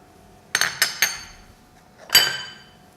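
Metal spoon clinking against a pot while Pakistani tea is stirred, three quick close knocks followed by a single louder clink, each ringing briefly in a quiet kitchen.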